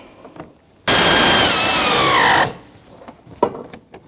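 A power driver snugs a bolt on the AC condenser of a 2007-2017 Jeep Patriot 2.4L, giving one loud steady whirring burst of under two seconds between quiet clinks of tools and parts.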